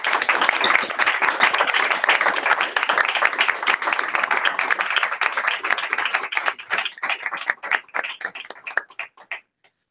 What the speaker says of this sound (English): I think another round of applause for Thokozani.